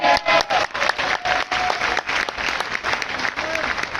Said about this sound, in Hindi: तालियां बजती है, बिल्कुल बजती है।